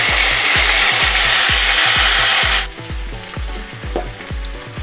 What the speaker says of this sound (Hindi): मैंने ये अदरक, हरी मिर्च और लहसुन का पेस्ट है ये डाला है